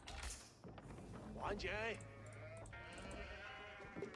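Sheep bleating in the Age of Empires IV strategy game, a couple of wavering animal calls rising over steady game background sound while a commentator talks.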